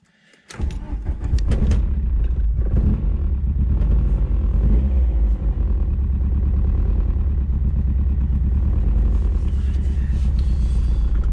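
A VW Scirocco MK2 converted to an R1 engine with rebuilt carbs sets off on its first road test, its engine starting up loud and close then droning steadily under way, with rattles.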